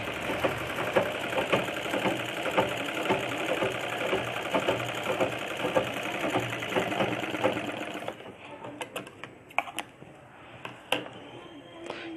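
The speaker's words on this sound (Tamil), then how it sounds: "நல்லா ஓரமாக தைங்க, அப்போதான் அழகாக இருக்கும்." A sewing machine stitches the sleeve of a churidar top, a fast, close, steady mechanical rattle that runs for about eight seconds, then stops, leaving a few clicks and handling noises.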